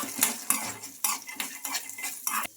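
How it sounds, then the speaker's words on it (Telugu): Peanuts fry in a pan and are stirred with a metal spoon, giving sharp rhythmic scrapes and clinks roughly every half second over a light sizzle. "ఈ పల్లీలను బాగా ఫ్రై చేసుకోవాలి"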